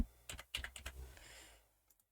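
Quick burst of typing on a computer keyboard, a handful of close, crisp key clicks in a short run, then quiet.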